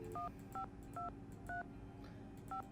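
Five separate keypad tones on a phone in a Nancy Drew video game, short beeps spaced evenly over a faint background with no voices.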